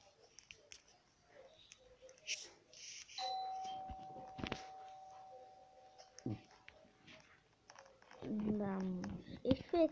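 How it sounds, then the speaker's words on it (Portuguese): A doorbell chimes once inside the Roblox video game, a clear tone holding for a few seconds amid soft clicks and rustles, with voices chattering near the end. "Isto foi a campainha"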